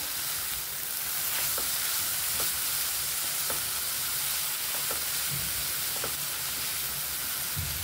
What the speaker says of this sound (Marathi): छान अशा प्रकारे आपल्याला हे आता सारण परतून घ्यायचे.